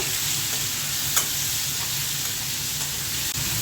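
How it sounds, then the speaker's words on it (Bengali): Shrimp frying with onions in a pan, a steady close sizzle with a few faint spatula scrapes and no voices. "চিংড়ি মাছটা আমি পেঁয়াজের সাথে কিছুক্ষণ ভেজে নেব"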